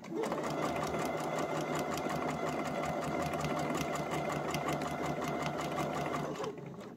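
A sewing machine stitches the long sides of a fabric scrunchie in one steady, continuous run of close, loud mechanical whirring that cuts off at the very end.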